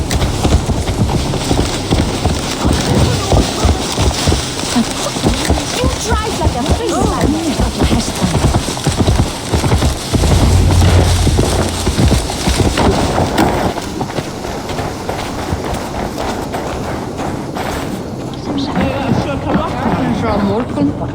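Horse hooves clip-clop steadily through the Assassin's Creed Valhalla game soundscape, loud and continuous under rain and ambient noise, with character dialogue spoken over it.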